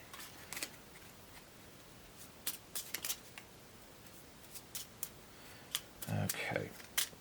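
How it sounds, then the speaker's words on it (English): Board game cards from a Cthulhu: Death May Die Mythos deck are shuffled close by, with a steady papery riffle and repeated sharp snaps and flicks, while faint room noise continues underneath. "we shuffle them back into the Mythos deck"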